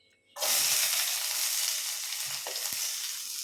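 Onion and garlic hitting hot oil for a chicken and mixed vegetable soup, a sudden loud sizzle bursting in after a quiet start and holding steady, with a couple of faint stirring clicks near the end.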